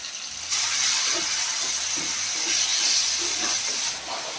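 Tomatoes and onions with salt sizzle in a pan for a fish curry, a steady close hiss with faint stirring clatter and no talk.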